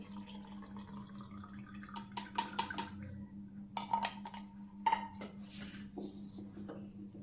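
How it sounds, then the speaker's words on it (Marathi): Sugar water is strained through a sieve into a vessel while making dough, giving a faint trickle with scattered metallic clinks and taps over a low hum. "आता हे पाणी गाळून घेते म्हणजे आपल्याला कडाकणीसाठी पीठ तयार करता येईल"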